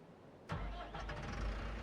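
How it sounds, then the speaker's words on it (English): A Lindner tractor engine cranks and catches in the Farming Simulator 25 video game, jumping suddenly from silence into a steady, loud idle rumble with no voices. "Right, so now I need to get my Lindner tractor."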